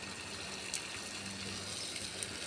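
Water gushing from a garden hose while watering moringa plants, a steady faint hiss and splash running continuously without pause.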